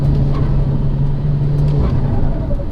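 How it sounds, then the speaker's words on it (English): Steady, loud engine drone from a 417 bhp VW Golf GTI Edition 30 with a Venom 450 upgrade, heard from inside as the car holds speed, a constant low rumble with a slight dip near the end. "That's the Venom 450 making all that noise."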